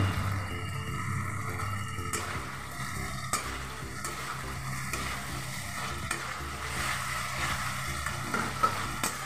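Fried potatoes go into a sizzling Bengali fish curry (machher kaliya) in hot oil, giving a steady close sizzle with a few soft clicks and stirring sounds and no talking.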